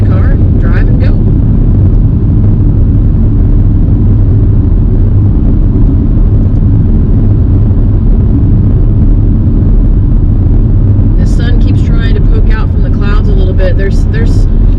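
Car driving along a Texas coastal road, a steady loud engine and road rumble filling the whole stretch, with a voice talking over it near the start and end.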